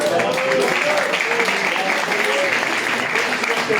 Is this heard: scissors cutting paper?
no